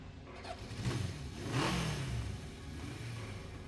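Motorcycle engine in a visual novel scene starting up and revving, the pitch rising then sweeping as the bike pulls away, loud and close with steady engine drone and no voices.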